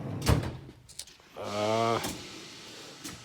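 A drawer on an auto body shop tool box slides open or shut with a sustained grinding rumble lasting about half a second, preceded by a few clunks and knocks of tools being handled.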